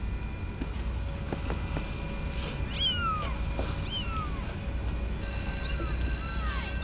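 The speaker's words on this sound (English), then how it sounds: "They're my kitties." Cats meow several times in a row, in drawn-out, falling cries over a steady background hum, with a faint voice nearby.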